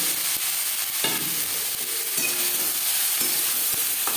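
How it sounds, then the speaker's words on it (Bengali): Pasta being stirred with carrot and capsicum in a hot pan for egg pasta, a loud, dense sizzle with sharp spatula scrapes and taps every second or so, no voices. "গাজরের সাথে ক্যাপসিকাম নাড়াচাড়া করে নেওয়ার পর দিয়ে দেবো পাস্তা"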